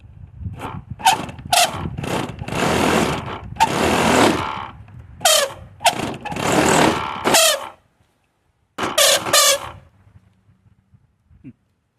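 A Hangar 9 Mustang model plane's glow engine, left sitting for 15 years, struggles to start: a run of loud, ragged, sputtering bursts that cut out, then a short second attempt after a pause, close by with no steady running.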